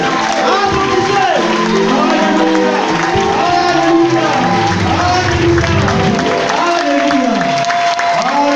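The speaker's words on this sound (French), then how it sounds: "Applaudissez le Dieu." A congregation at a prayer summit in Bangui applauds God, with sustained crowd clapping, shouts and cheers continuing loudly throughout, mixed with voices.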